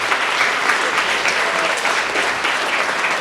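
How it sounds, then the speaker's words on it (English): Audience applause fills a school student-recognition event at a cafe, a dense steady round of clapping that holds at full strength throughout. "Give yourself a round of applause, please."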